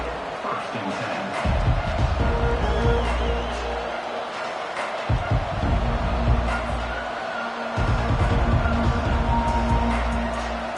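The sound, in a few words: stadium crowd noise at a college football game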